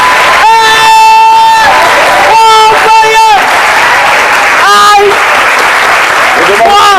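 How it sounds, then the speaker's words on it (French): Loud, continuous applause from a large crowd of young people giving a standing ovation, mixed with cheering and shouted voices rising above the clapping. "un standing ovation offert par tous ces jeunes"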